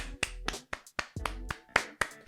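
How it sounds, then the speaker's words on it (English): Scattered, close hand claps from a few people, sharp and uneven, saluting DTG, a cruiserweight boxer entering a Misfits tournament. "Can we give DTG some rounds of applause, man?"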